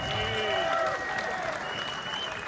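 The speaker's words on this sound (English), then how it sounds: "I want to give him a massive round of applause" Indoor audience at a community event breaking into sustained applause, dense clapping from a crowd with scattered cheers, fairly close and continuous throughout.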